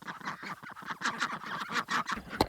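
Ducks quack close by in a rapid, uneven burst of nasal calls, loud and near, with a sharp final honk, no talk.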